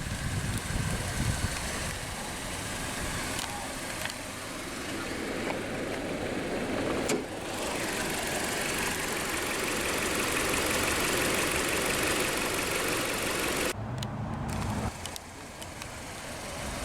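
A 2011 Dodge Caliber Uptown with a 2.4-liter dual overhead cam, 16-valve, naturally aspirated inline-4 with variable valve timing idles steadily up close. The hum is loud and even, with a short dip near the end.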